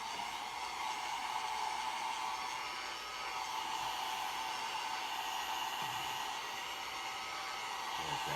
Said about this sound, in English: then we're gonna dry it with the blow dryer.